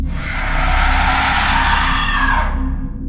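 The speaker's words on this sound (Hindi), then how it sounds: "औरत ने मेरे तरफ अपना मुंह किया और चिल्लाने लगी" A woman's loud, drawn-out scream, harsh and sustained for about three seconds and heard alone, used as a horror story sound effect.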